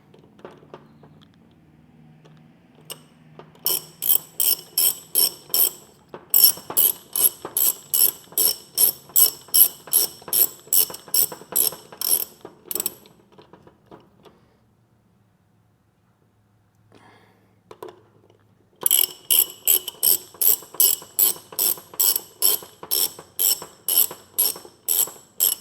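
A hand ratchet clicks in quick rhythmic bursts while tightening cylinder head bolts during an engine rebuild with new heads, rocker arms and manifold. Two long runs of close, crisp pawl clicks are separated by a quiet pause.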